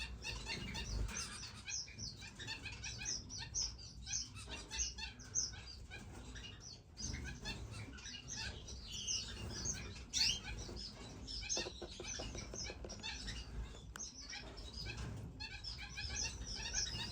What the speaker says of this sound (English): That's a strawberry finch